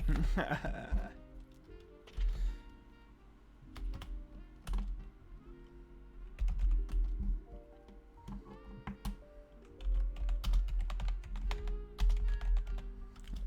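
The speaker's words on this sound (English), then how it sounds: "My favorite thing to hear is the clackities of the keyboard." Computer keyboard keys clack in uneven bursts of rapid typing with short pauses, close and crisp, with some faint talk mixed underneath.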